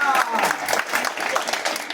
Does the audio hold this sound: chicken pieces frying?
no